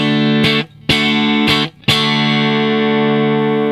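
An electric guitar plays through a multi-effects pedalboard set to a plain clean tone: three short strummed chords cut off quickly, then a final chord left ringing and slowly fading, loud and with no talk.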